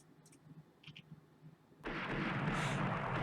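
Naval gunfire in the warship game Rule the Waves: scattered faint clicks, then at about two seconds a sudden loud, sustained broadband roar of a big-gun volley that fills the rest of the clip.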